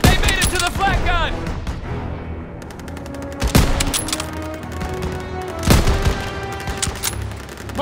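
Rapid World War II-era gunfire in Call of Duty: WWII crackles in dense, loud bursts, with machine-gun rattles and heavier booming shots overlapping while soldiers shout commands in the mix.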